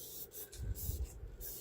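Short bursts of spray mist onto small epoxy resin pieces, several quick airy puffs in a row, close up with a soft low rumble underneath and no talking.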